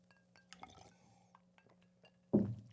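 Glasses clink in a toast, a few light separate taps followed by a louder clink near the end, close by in a quiet room.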